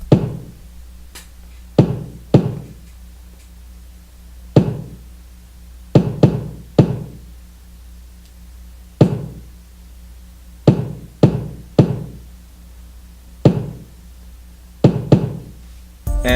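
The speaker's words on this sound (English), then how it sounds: "We're also introduced to a different kick pattern." A trap beat's kick drum hits alone in a sparse, syncopated pattern, punchy low thumps landing in irregular clusters with a faint sustained tone underneath.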